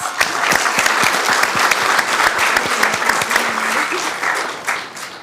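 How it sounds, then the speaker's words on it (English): Steady, dense audience applause fills a city council chamber after a call to honor a group, continuous and close for several seconds with no talk over it. "How about a final round of applause for the Cardinals?"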